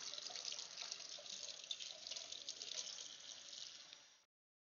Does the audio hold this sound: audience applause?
no